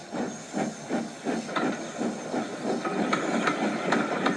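Steam locomotive puffing away from a station on a narrow-gauge railway, a steady rhythmic chuff of exhaust beats with hissing steam, fairly close and gradually quickening.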